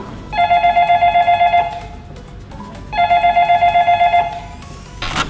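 A telephone rings close by in two loud electronic bursts separated by a short pause, with a third ring just starting at the end.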